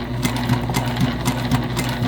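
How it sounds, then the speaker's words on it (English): A sewing machine stitches a fabric bag in a steady, fast mechanical run, its rapid needle rhythm close and continuous with a faint motor hum beneath. "This is the last bit of sewing that we need to do."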